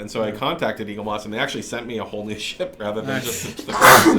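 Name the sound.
sneeze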